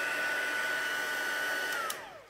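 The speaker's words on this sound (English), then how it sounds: "should I be worried that my heat tool's making that noise? It's going up and down" A well-worn embossing heat tool, about six years old, blows with a steady loud whooshing roar and a thin whine that slides downward as it winds off near the end.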